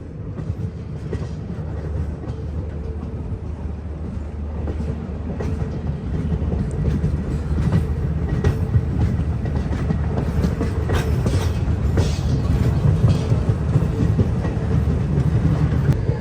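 A passenger train runs through snow on the Srinagar to Banihal line in Kashmir, giving a steady loud rumble with rhythmic clickety-clack of wheels over rail joints and no talk.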